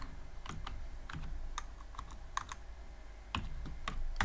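Keystrokes on a computer keyboard while Python code is written, with scattered clicks and taps at an irregular pace, fairly close and moderately quiet over a steady low hum.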